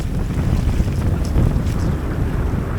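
Strong, constant wind during a storm on a massive lake in autumn, roaring loudly and buffeting the microphone, with water and waves churning underneath.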